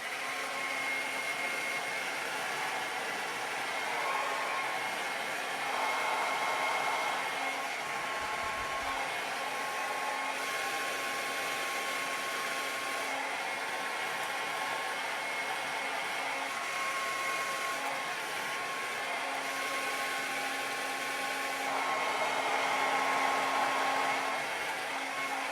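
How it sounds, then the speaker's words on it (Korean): A hair dryer blowing hair dry from top to bottom, a steady close whirring roar with a constant motor whine that shifts slightly as it moves around the head, running continuously without talk. "머리 말리는 거 위에서 아래로."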